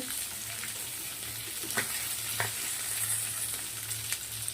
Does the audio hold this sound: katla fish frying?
yes